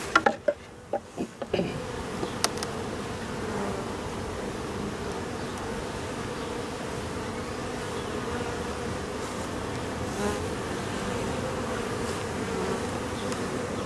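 Honey bees at an open beehive during a hive inspection make a dense, continuous buzz, preceded by a few sharp knocks and handling bumps in the first two seconds, with no talk.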